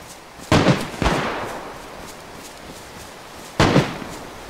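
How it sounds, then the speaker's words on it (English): Gunshots from the survival video game DayZ, fired near a sniper hunt: three sharp loud cracks, two close together and one a few seconds later, each with a short echoing tail. "Who's shooting Winnie?"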